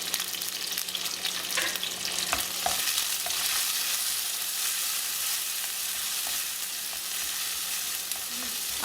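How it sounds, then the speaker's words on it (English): Onions and tomato fry together in a pan with a continuous close hiss and sizzle, broken by a few sharp stirring clicks and spatters, and there is no talking. "Next comes the tomato. And fry this together."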